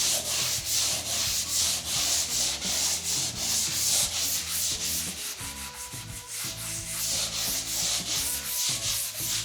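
A bedroom wall is hand-sanded smooth ahead of painting, producing continuous close rasping strokes in an even back-and-forth rhythm with light, uniform pressure and no voices.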